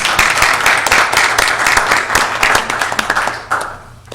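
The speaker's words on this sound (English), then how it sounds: "he said applaud, but nobody did, so let me do that." Loud applause at a city council meeting, close and sustained clapping from a room of people with crisp individual claps, fading out toward the end.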